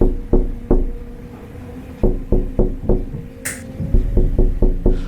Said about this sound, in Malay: Sekarang there's somebody who actually ketuk pintu aku.